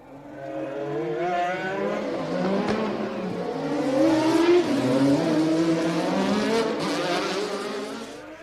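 Formula 1 race cars from the 1983 season roar loudly and continuously, with engine pitch rising and falling as cars accelerate and pass, layered engine notes blending throughout with no speech.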